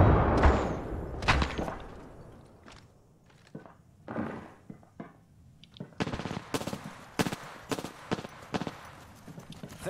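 Bursts of gunfire from the battle royale game Apex Legends in a season 12 match, rapid automatic volleys and single shots clustered in stretches, with thuds and footstep-like clatter between, fairly loud throughout.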